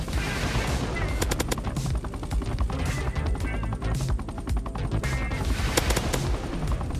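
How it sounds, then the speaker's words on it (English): Roblox Cobra attack helicopter firing a burst of three missiles in a base battle game, heard as dense, continuous loud gunfire-like blasts and crashes with sharp repeated reports throughout, no talking. "it shoots 3 missiles in the one spot. Like a burst"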